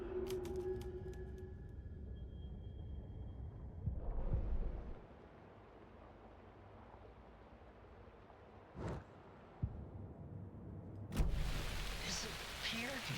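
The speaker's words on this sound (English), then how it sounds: "the darkness and rain pressing against the windows" Rain pressing against windows on a dark night in Alan Wake 2, a soft continuous patter under a hushed game soundscape, with several sharper swells and bursts breaking through near the end.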